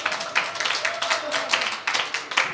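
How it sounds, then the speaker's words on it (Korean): Indoor crowd at a teachers' gathering clapping for an award-winning teacher, a steady patter of many hands with uneven bursts, moderately close, with talk faintly mixed in. "자, 우리 격하게 박수 좀 쳐주세요."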